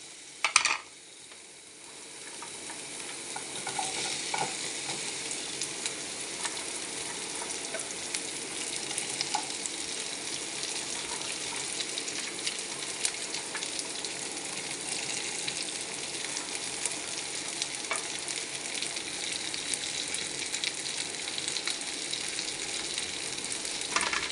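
Okra sizzles steadily in hot oil in a pan, a loud, dense, continuous frying hiss after a brief clatter at the start, with occasional stirring scrapes and clinks throughout and no talk.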